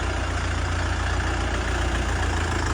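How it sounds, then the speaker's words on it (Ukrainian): A 40-horsepower tractor engine idles nearby in a steady, unbroken low rumble with a dense broadband roar and no talk. "Даний тракер на 40 кінських сил із синхронізованою коробкою передач"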